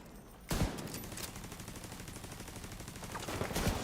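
Gunfire erupts abruptly during a sniper battle in the Warframe video game, then continues as a sustained, rapid rattle of shots that swells slightly louder toward the end.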